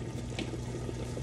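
Water pours steadily into a pot of simmering ginataang monggo with malunggay, a continuous splashing rush over a low bubbling simmer, close and moderately quiet.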